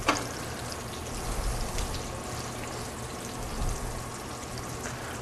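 Steak searing in butter and garlic in a pan for steak au poivre, a low, steady sizzle heard close and continuous without any talking.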